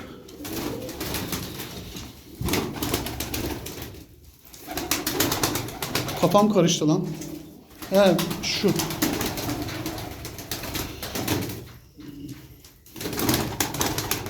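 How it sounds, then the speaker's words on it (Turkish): Pigeons in a backyard coop coo in soft, repeated throaty bursts, close by, while someone talks over them at intervals. "Bir de şurada tip güvercinim var."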